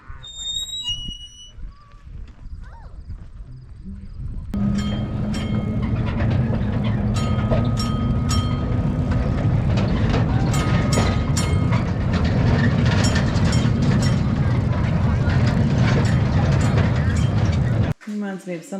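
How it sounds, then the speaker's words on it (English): A working pre-1936 battery-powered locomotive on rails in Alberta runs with a steady, loud rumble and rhythmic clatter. Faint birdsong comes first, then the noise holds at a constant level before stopping abruptly near the end. "a working pre-1936 battery-powered locomotive that you can go for a ride on"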